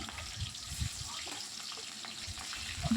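Green chilies and five-spice seeds frying in hot oil in a wok, giving a steady, close crackling sizzle with small pops throughout, louder near the end.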